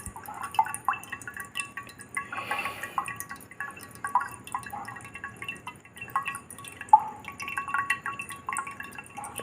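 A clogged household tap drips slowly, with sparse bright single drops and light splashes falling at irregular intervals against a quiet background.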